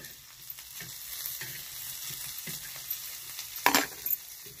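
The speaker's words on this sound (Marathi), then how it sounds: "गरम तव्यावरच आणि खडे मीठ टाकलं ना तर असं मिरच्या जर भाजून घेतल्या" Green chillies roast with coarse rock salt on a hot iron griddle, giving a soft, faint sizzle with light scraping and stirring taps and a brief sharper crackle near the end.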